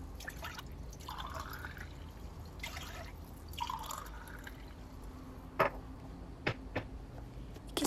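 Water poured into a bowl of cracked eggs for dough, a quiet trickling and dripping pour followed by a few soft clinks and taps, with no talking.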